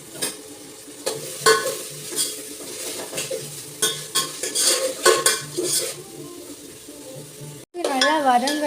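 Onions sautéing with rock salt in a pan, stirred and scraped with a utensil in repeated clattering strokes over a steady close sizzle, then a brief pause and a loud renewed fry.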